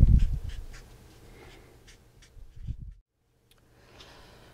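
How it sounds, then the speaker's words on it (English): A pen or marker scratches out an equation in short strokes, faint and close, with a couple of brief louder scrapes and a near-silent pause before light writing resumes. "So let me write that out."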